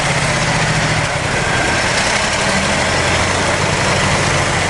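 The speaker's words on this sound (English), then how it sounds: "I don't like getting up in between two trucks." Truck engines rumbling on a road beside a Ducati XDiavel motorcycle, a loud steady low drone mixed with wind noise, close and continuous without speech.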